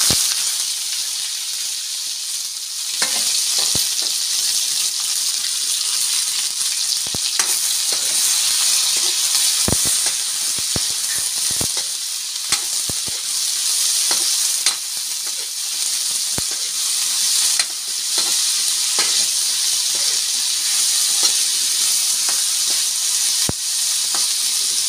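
Beans and sardines frying in a pan give a steady, loud sizzle and hiss, broken by sharp scrapes and clinks as a utensil stirs them.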